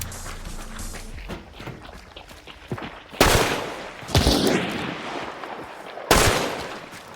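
Gunfire in a video game with the player taking hits: three sharp loud bursts stand out over quieter footsteps and game ambience, spaced a second or two apart.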